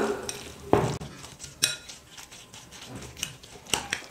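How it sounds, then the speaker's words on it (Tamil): Batter of vermicelli with cumin powder and spices being mixed in a bowl, giving a few sharp clinks of a utensil against the bowl over soft scraping and patter, close and fairly quiet. "எல்லாத்தையும் சேர்த்து நல்லா மிக்ஸ் பண்ணி விட்டுக்கலாம்."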